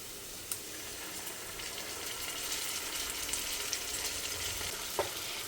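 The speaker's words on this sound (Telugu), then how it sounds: "ఇప్పుడు ఈ అల్లం వెల్లుల్లి పేస్ట్ కూడా పచ్చివాసన పోయే వరకు ఫ్రై చేసుకోవాలి" Ginger garlic paste frying with onions in a pan, giving a steady close sizzle with a few sharp clicks of stirring and no talking.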